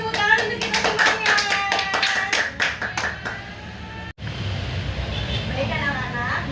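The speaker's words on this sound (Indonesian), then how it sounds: "Oke, tepuk tangan untuk kita semuanya." Fourth-grade primary school children in a classroom clap their hands in quick rhythmic bursts while voices chant along, then the clapping stops abruptly and the room falls to quieter background murmur.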